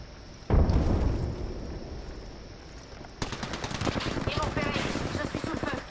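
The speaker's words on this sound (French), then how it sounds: "Grenade frag lancée." A sudden loud explosion in Apex Legends, consistent with a frag grenade, with a booming low rumble that decays over a few seconds before rattling gunfire and game noise pick up.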